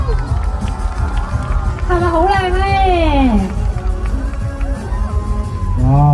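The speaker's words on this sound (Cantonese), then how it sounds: "我哋俾啲掌聲" A fan crowd at a singer's 26th birthday celebration cheers and whoops loudly as the cake is brought out, with a host's amplified voice speaking over the noise.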